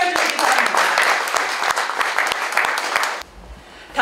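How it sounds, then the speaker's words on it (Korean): A crowd applauds loudly and steadily for about three seconds at the opening ceremony of a craft exhibition at the Tongyeong International Triennale, then the clapping stops abruptly, leaving quiet room tone. "다시 한번 뜨거운 박수로 개막을 축하해 주시기 바랍니다."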